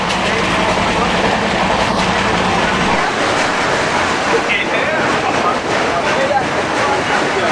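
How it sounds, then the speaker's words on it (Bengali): Tamralipta Express 12857 train rolling on rails after departing Mecheda station on the Howrah to Digha route, a steady loud rumble with rhythmic wheel clatter that grows rougher partway through, continuous and close. "মেচেদা থেকে ছেড়ে দিল এখন ট্রেন"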